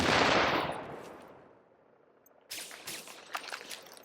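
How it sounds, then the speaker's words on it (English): Submachine gun fire in The Division video game, a loud dense burst at first that fades, then a few more short rapid bursts. "switch to my submachine gun, try and take this guy out."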